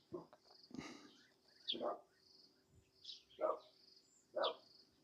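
Faint, distant dog barks, about four of them, spaced irregularly over a quiet background with a thin high insect-like tone.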